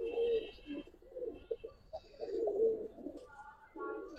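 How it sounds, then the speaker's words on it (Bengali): Pigeons of an old-generation gribaz breed coo in low, throaty rolling calls that repeat steadily and sit close by, with faint people talking in the background. "এটা অনেক ভালো রেজাল্টের কবুতর"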